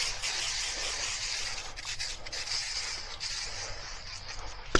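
Aerosol choke cleaner hisses onto the front brake rotor of a 2016 Chevy Malibu, a steady close spray with brief breaks that ends in a sharp click.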